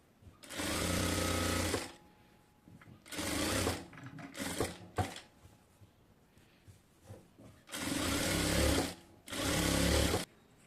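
A sewing machine stitches the side-slit hem of a pant-cut salwar in five loud whirring bursts of one to two seconds each, separated by short quiet pauses with faint handling of the fabric.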